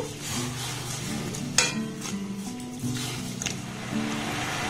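Sugar and water bubbling and being stirred in a wok on a gas stove, a soft steady sizzle with occasional scraping and clinking from the spoon, close and moderately loud.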